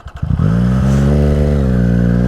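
A motorcycle engine fires up after a brief starter crank, then settles into a loud, steady idle with a deep rumbling harmonic drone, close by and alone.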